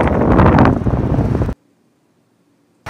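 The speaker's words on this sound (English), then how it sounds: "The wind." Wind buffeting the microphone outdoors on a cold winter day, a loud rumbling gust for about a second and a half that cuts off abruptly into silence.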